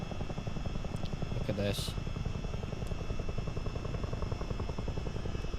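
CH-47D Chinook helicopter in a flight simulator, its twin rotors throbbing in a steady rapid chop beneath a continuous engine hum, loud and constant throughout while a voice talks over it.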